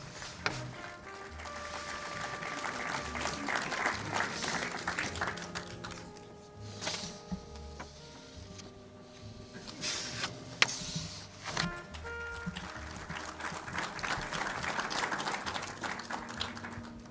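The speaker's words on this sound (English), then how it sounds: "wielkie brawa. Big round of applause." An audience at an academic year inauguration ceremony at WSB Merito University in Gdańsk claps for award winners, a moderate hall-filling round of applause that ebbs and swells, with faint background sounds.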